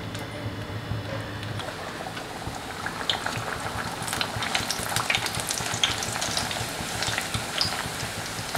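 Rolled bhatura dough frying in hot oil, a steady bubbling sizzle with crackling spatters that grows busier after the first few seconds, close by and with no talking.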